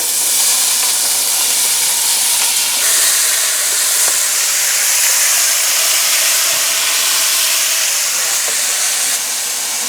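Fresh chopped carrots, celery and onions sauté in avocado oil in a pan, giving a loud, continuous hissing sizzle that holds steady throughout, with no talk.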